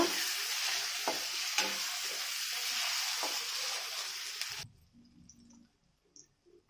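Tomatoes and mutton fry in a pan for a spicy mutton kosha, giving a loud, steady sizzle with scattered stirring clicks that cuts off abruptly, leaving near-silence with faint sounds.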